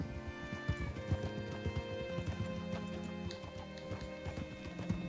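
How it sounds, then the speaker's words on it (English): Horse hooves clip-clopping in Red Dead Redemption II, a steady rhythmic run of hoof strikes with occasional snorts and tack noise, moderately close and continuous beneath game ambience. "Hitch your horse up here."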